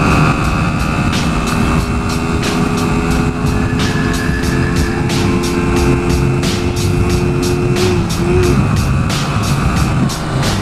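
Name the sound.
Hyosung Aquila GV125 Bobber motorcycle engine while riding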